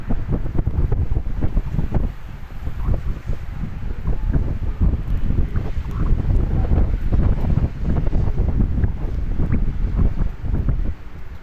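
Strong gusty wind with rain, heavy low rumbling buffeting that blasts the microphone continuously and close, rising and falling in surges, no voices.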